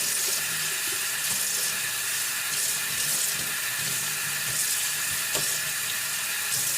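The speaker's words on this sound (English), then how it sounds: "And now I'm just going to rinse it really, really good." Running tap water splashes steadily over a U-part wig being rinsed in a sink, a continuous close hiss and patter with no pauses or talk.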